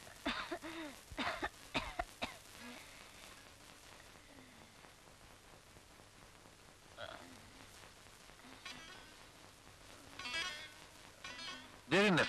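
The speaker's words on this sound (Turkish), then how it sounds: "Öksür." Several sharp coughs near the start and more coughing later, fairly faint, mixed with soft speech and background noise.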